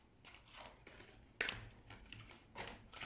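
Brand new tarot deck being shuffled by hand, with bursts of riffling card noise and a sharper slap of cards partway through, fairly close and without talk.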